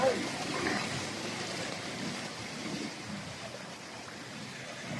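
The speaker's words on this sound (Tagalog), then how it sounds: "Lakas ng tubig." Strong current of water rushing steadily close by, a dense continuous wash buffeted by wind noise on the microphone, with faint muffled voices at moments.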